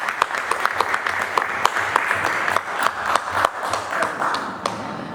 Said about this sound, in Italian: Farei un applauso.